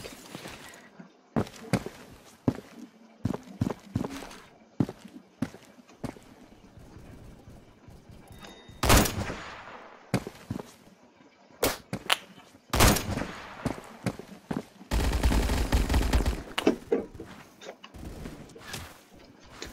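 Gunfire in the Roblox game Phantom Forces crackles in scattered sharp shots and short bursts, with a longer sustained burst toward the end.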